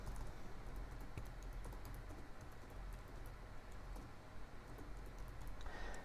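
Continuous light key tapping on a computer keyboard while a web address is entered during smart-home software setup, steady close clicks at a soft, even level with no talking.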